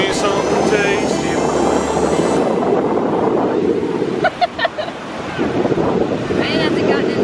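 Ocean surf at Santa Monica beach on a windy day, a continuous loud wash of breaking waves with heavy wind buffeting on the microphone, close and enveloping throughout.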